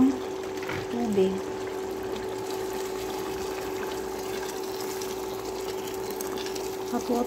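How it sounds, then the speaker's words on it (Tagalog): Hot water pours steadily into a pot of chicken cooking with tomatoes for bukhari chicken, a continuous close trickle running throughout with a brief clatter at the start. "Lagyan na natin siya ng tubig."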